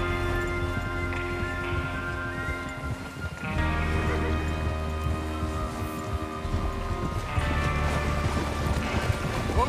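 Horses gallop in Red Dead Redemption 2, a steady rumbling clip-clop of hooves running continuously at close range under a wash of wind and movement noise, with no talking.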